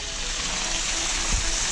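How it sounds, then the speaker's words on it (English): Hot spring water pours steadily out of rock in a small river cove, a constant close hiss and rush of flowing water with no talk over it. "the little cove with all the freaking hot water just pouring out of here"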